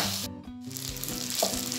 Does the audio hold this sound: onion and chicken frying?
yes